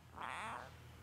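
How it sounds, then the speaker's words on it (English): A pet cat, just woken from sleep, gives a single short meow, close but soft in a quiet room. "This is my cat."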